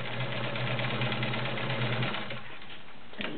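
A vintage Kenmore Model 1750 heavy-duty sewing machine stitches sheer, delicate nylon with a steady, close motor hum and a rapid needle rhythm, slowing and stopping near the end; no voices are heard.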